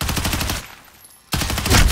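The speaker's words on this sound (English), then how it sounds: "Taking fire." Machine-gun fire in Call of Duty: Modern Warfare (2019), hardcore Domination on Arklov Peak: a loud rapid burst, a short near-silent pause, then another close burst.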